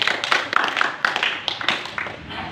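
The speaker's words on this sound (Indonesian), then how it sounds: "Tepuk tangan buat Tuhan kita Yesus Kristus." A church congregation clapping hands in praise, a steady run of fairly loud, rhythmic claps filling the room throughout.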